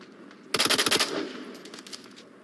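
Rapid burst of automatic gunfire and shotgun blasts in a tactical shooter match, loud and close, a dense volley followed by scattered fainter shots and a lingering rumble.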